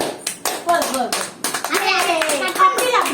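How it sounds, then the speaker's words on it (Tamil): Hands clap in quick, uneven bursts at a child's fifth birthday celebration at home, close and lively, mixed with children's and adults' voices chattering over the clapping. "கை தட்டு"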